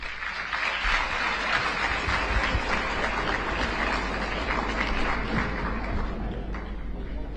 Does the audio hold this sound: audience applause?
yes